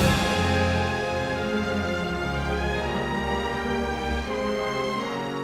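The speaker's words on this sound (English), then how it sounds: "That score is just so beautifully tragic." Orchestral film score from the Anakin and Padme wedding scene in Star Wars, sustained and loud throughout with lush strings and a deep low bass, no talking over it.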